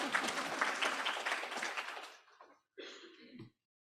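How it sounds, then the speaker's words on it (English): Applause from a seminar audience at a clinical research presentation, a dense burst of clapping for about two seconds that fades into scattered claps and a brief murmur before stopping. "Give these guys a round of applause."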